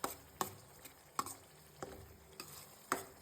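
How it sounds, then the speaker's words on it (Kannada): Homemade sambar powder and chili powder fry in a little oil while a utensil scrapes and taps the pan, producing a faint sizzle punctuated by a series of sharp, evenly spaced stirring clicks. "ಅದು ನೀಟಾಗಿ ಎಣ್ಣೆ ಎಲ್ಲ ಹಸಿ ವಾಸನೆ ಎಲ್ಲ ಹೋಗೋ ಥರ ಸ್ವಲ್ಪ ಫ್ರೈ ಆಗಲಿ"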